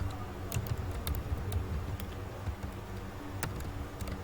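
Keys tapped on a computer keyboard in short, uneven bursts of sharp clicks with small pauses between them, close and fairly quiet, with no voices.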